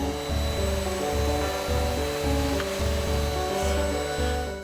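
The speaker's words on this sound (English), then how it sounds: "And then I like to just lightly buff the surface. These abrasive sponges are my latest discovery" An abrasive sponge rubs back and forth over a CA glue seam on a scale model in steady, rhythmic strokes, close and continuous, with no talking.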